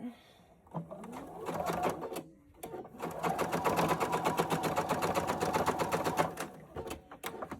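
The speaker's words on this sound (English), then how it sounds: "So go ahead and base stitch it." A sewing machine base-stitches a hanging towel, a short burst of fast rhythmic stitching followed after a pause by a longer steady run, close and fairly loud, with brief speech before it.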